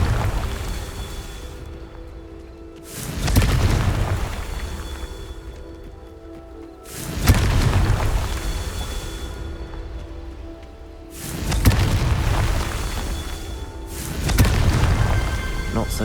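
Repeated Confringo spell explosions in the video game Hogwarts Legacy, four loud booming bursts a few seconds apart, each decaying into rumble, with a player's voice heard around them.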